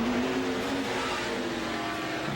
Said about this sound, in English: Good truck racing.